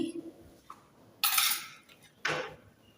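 A serving spoon scrapes and clinks against a pot while pumpkin curry (kaddu sabzi) is dished out, two short bright metallic bursts close by with quiet room sound between them.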